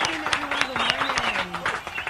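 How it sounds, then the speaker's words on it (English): Studio audience applause on a morning radio show, a short burst of clapping heard beneath a talking voice and cheering, fairly close and steady for its brief length. "let's give a big round of applause because she made it back safe"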